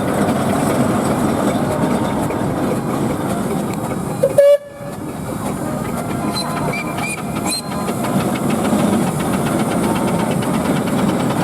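Foster steam traction engine, beautifully restored, rolling past in a steam rally parade: a steady loud mechanical chuffing and hiss throughout, a brief sharp whistle-like squeal around the middle, with no voices.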